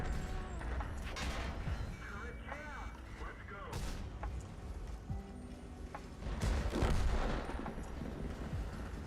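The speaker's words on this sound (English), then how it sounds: "this artillery is getting kind of annoying" Artillery fire in a tank video game comes as repeated heavy booms and gunfire cracks with mechanical clatter, spread across the scene at moderate loudness under ongoing talk.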